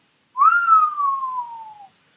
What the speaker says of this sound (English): Errol gave a low whistle.